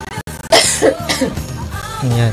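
A person coughs and clears the throat in a few quick bursts during a Filipino radio talk show, close and fairly loud, with voiced sounds mixed in.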